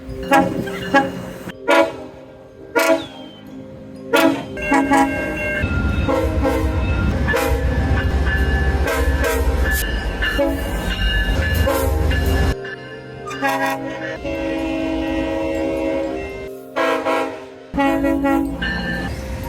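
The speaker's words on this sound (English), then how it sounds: "Here's a couple of horn samples that I recently got from a couple of commuter GO trains from the Southern Ontario region" K5CA air horns on GO Transit commuter trains in Southern Ontario sound in several loud, close blasts, some short toots and some long sustained chords, with rumbling train passing noise between them and no talking.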